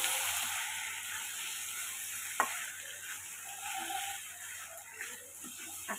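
Potato and pointed gourd curry sautéing in a pan, a soft steady sizzle with occasional scrapes and clinks of stirring, close and quiet with no voices.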